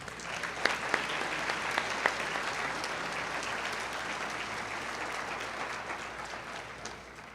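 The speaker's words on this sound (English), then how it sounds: "Let's give this entire group of scholarship winners a big round of applause." Banquet audience at an Arkansas 4-H awards evening applauds scholarship winners, a steady, dense round of clapping from a large room that carries on evenly for several seconds, fairly distant, with a few sharper claps near the start.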